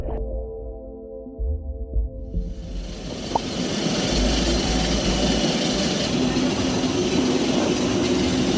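Steady broadband roar of jet engines heard inside an airplane cabin, rising from a quieter start into a constant loud wash of engine and air noise with no talking.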